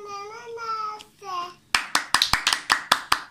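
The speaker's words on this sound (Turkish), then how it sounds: "Alkışım anne." A child claps their hands in a quick run of sharp, close claps, preceded by a child's singing or babbling voice.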